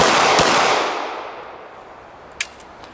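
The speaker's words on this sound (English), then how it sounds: "Now I'm going to fire 2 shots, 1 double action, 1 single action." A Walther P99 AS 9mm pistol fires two shots, one double action and one single action. Each sharp report is followed by a fading echo, with the second shot quieter and a few faint clinks after it.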